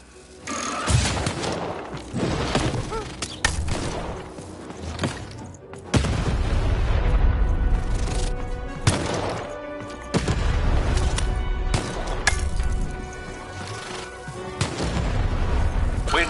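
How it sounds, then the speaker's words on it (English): A cannon fires repeatedly in the video game Lost in Random, with loud booming blasts and crashing impacts spaced irregularly over game music and effects. "Shoot the button to fire the cannon."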